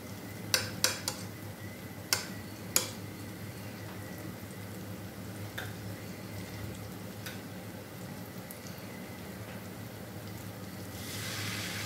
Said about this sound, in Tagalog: Haluin natin hanggang sa kumulo.